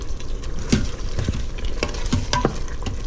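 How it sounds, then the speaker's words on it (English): Seasoned beef with thyme and seasoning salt being stirred in an Instant Pot, soft sizzling under a few distinct scraping and clacking strokes of the utensil, close and fairly quiet with no talking. "We're going to give that a stir"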